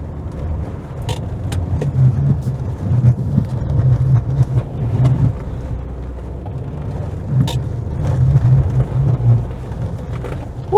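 Interior of an Alfa Romeo 156 front-wheel-drive car on snow, running on very worn old rear winter tires and new front ones, a steady low engine drone rising and swelling as it picks up speed, with occasional clicks and knocks.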